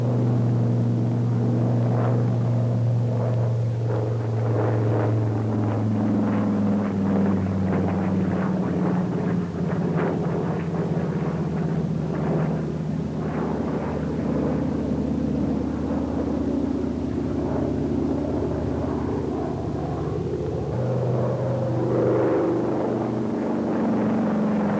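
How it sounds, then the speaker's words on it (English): An SB2A Buccaneer propeller plane flies an aerobatic loop, its piston engine droning loudly and steadily while the pitch shifts and falls through the maneuver, with no voices. "The Buccaneer is capable of performing the usual acrobatic maneuvers"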